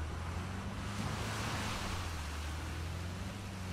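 Waterfall in a video game, a dense continuous roar of rushing water with a steady low hum beneath, constant and close, no voices.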